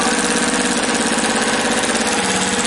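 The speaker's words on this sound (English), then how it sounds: "I think your drill's running low." A cordless drill low on battery runs continuously in a close, loud, even motor hum with a faint rapid pulsing and no pauses.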